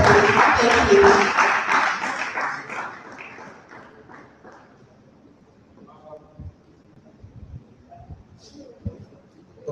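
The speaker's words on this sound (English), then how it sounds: "There's a round of applause for you" Audience applause at a conference gathering, loud dense clapping at the start that thins and fades over several seconds, leaving scattered claps and faint room noise.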